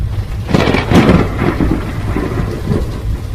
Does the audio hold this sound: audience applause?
no